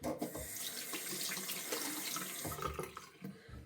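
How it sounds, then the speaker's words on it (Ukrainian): Hands are washed under a running tap at a sink, a steady close rush of water with splashing as the hands move through the stream. "Знову мию руки."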